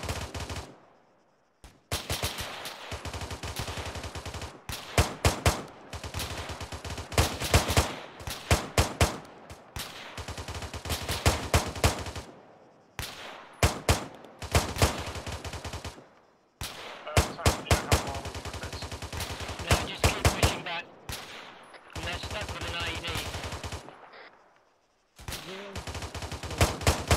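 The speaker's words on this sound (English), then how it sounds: "Fire down upon the ridge line." Gunfire on a ridge line in ArmA 3: rapid, loud machine-gun bursts in repeated volleys separated by short pauses, crackling and close, with occasional heavier reports.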